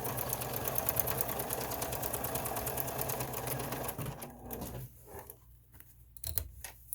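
A sewing machine stitches a quarter-inch seam on a fabric mask, a fast steady mechanical whir and needle clatter running close for four seconds, then slowing to a stop with a few clicks.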